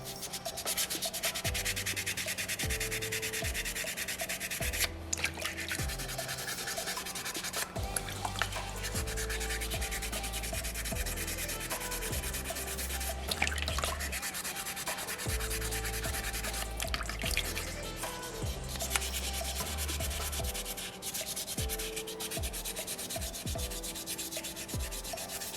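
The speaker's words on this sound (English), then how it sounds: "I'll fold this sandpaper up a few times," Folded sandpaper rubbing steadily against a small soapstone butterfly carving, a continuous gritty scraping in short back-and-forth strokes, close and fairly loud with no talking.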